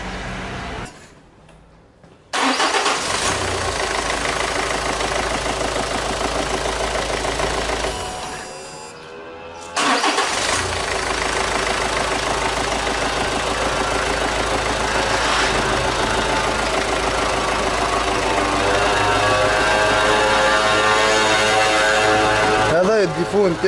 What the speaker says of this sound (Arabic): هاو باش نعاود نخدم الموتور يمشي ولا يخدم ولا لا